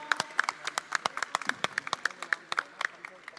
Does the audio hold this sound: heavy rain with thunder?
no